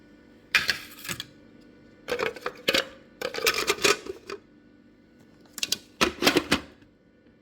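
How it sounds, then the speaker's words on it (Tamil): A knife chops through thick spinach stems on a cutting board in bursts of rapid close sharp taps, separated by brief quiet pauses, with no talking. "தண்டு கொஞ்சம் நிறைய இருக்கனால அதை முதல்ல வெட்டிட்டு வரலான்னு பார்த்தேன்"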